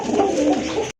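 Pigeons for sale coo steadily in a low, continuous throaty murmur, close and fairly loud, ending abruptly.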